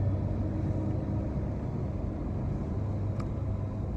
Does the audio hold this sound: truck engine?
yes